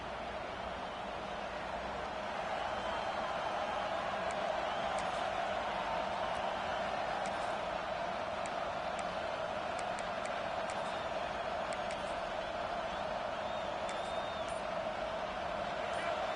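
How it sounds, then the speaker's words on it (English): A college football stadium crowd in a video game, South Carolina vs LSU, roars as a steady, dense wash of noise that swells slightly and holds, likely under a commentator's voice. "The roar of the crowd trying to fuel this defense to keep them pinned in their own end"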